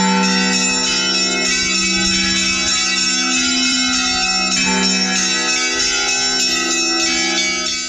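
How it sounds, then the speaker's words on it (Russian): Bells at a Russian Orthodox church ring steadily and loudly, their overlapping tones sustaining and blending into a dense, continuous peal with no voices. "колокольного звона, который совершается в нашем храме"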